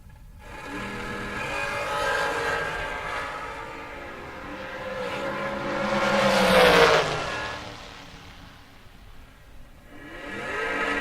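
Gene Drogan's Carpenter dragster makes a drag racing pass, its engine roaring loud and steady, building to a sweeping peak as it passes close by, then fading off.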